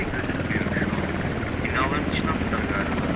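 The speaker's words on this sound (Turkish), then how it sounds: "Üstümde düşman helikopteri var." Enemy helicopter in the video game Squad, a steady rotor drone filling the whole clip with the whine of the rotor rising and falling, with a voice talking over it.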